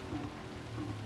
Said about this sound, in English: We're into the thick heavy rain